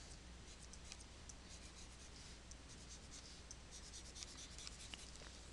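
Pencil sketching a graph line by hand on paper for an algebra problem, a faint steady scratching with light repeated strokes, close and quiet, with no talking.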